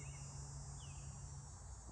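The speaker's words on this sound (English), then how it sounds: "Cicada like that one." A cicada sings in a steady, sustained high-pitched drone, faint and continuous throughout, with a low hum underneath.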